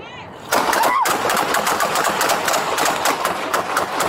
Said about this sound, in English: 27 shots fired.